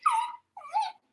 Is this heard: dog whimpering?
yes